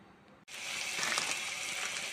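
Spices and peppercorns, fennel and cumin sautéing for a crab curry, starting with an abrupt loud sizzle in a hot pan that settles into a steady, close crackling hiss.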